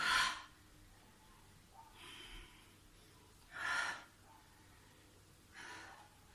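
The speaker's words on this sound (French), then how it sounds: "Prépare-toi, inspire, expire." Breathing during an intermediate yogalates exercise: four soft breath bursts, each about half a second, spaced a second or two apart over a quiet room, with no talking.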